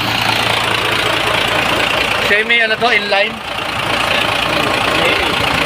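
A car with an M61 inline-six engine idles with a steady mechanical hum and light knocking, heard at a Subic auction. Someone speaks briefly over it.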